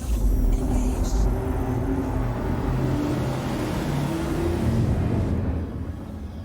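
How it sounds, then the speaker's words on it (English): Spaceship quantum drive spooling up in the Star Citizen video game, a loud steady low engine rumble with a faint rising whine above it, holding evenly before easing slightly at the end. "they've definitely slowed down the spooling up process when you're quantum jumping"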